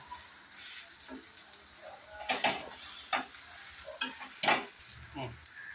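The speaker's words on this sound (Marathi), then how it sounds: "आता मी पुन्हा याच्यावरनं तेल ओतणार आहे आणि असंच भाजू देणार आहे" Mini uttapam roasting in oil on a pan over a low flame, with a soft sizzle broken by several sharp bursts of crackling as the oil spits, close and fairly quiet.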